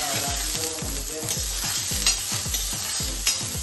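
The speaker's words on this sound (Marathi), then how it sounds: "तेल गरम झाल्यानंतर आपण आता इथं कांदा फ्राय करून घेऊया." Chopped onion sizzling steadily in hot oil in a home kitchen pan, made for homemade noodles, with a regular rhythm of stirring scrapes cutting through the constant fry, close and fairly loud.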